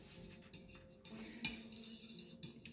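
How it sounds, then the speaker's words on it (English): Melted candle wax being stirred with a metal utensil in a container, a quiet series of light scrapes and clinks against the sides, close and soft with no talking. "Just stir well so we can incorporate it."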